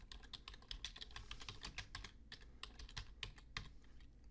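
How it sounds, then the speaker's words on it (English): Fingers type quickly on a computer keyboard, producing a steady run of close, crisp key clicks in an irregular rhythm that is faint overall, with no talking. "So I'm just going to type the words alternative methods right here at the bottom of this table."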